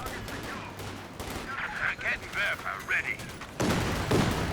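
Machine gun fire in Company of Heroes 2, including a .50 cal, rattling through a busy 2v2 battle as rapid bursts under a caster's talk, ending in a dense, loud spray of fire.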